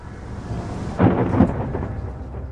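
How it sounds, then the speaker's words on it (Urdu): Thunderstorm at night with a loud roll of thunder over steady rain and strong wind, the rumble swelling after the first second and fading into a continuous stormy wash. "آندھی کی تیز رفتار ہوائیں، بادل کی گرج اور کڑکتی بجلی"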